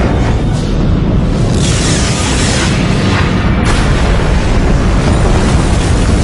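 Explosion in a sci-fi action film, a loud continuous booming blast with rumbling roar and whooshing bursts sustained throughout.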